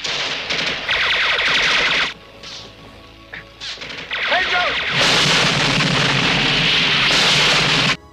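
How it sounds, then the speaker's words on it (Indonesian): A loud bomb blast destroying a bridge erupts amid rapid gunfire-like bursts and crashing debris, booming and chaotic, with a brief quieter gap before a sustained roaring explosion. "ledakan terjadi dan menghanguskan jembatan"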